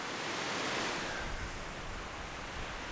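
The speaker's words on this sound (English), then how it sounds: "Yeah, the wind is still blowing pretty good." Strong wind roaring steadily outdoors, a dense, continuous broadband rush like surf with slight gusting swells, loud and close with no talking.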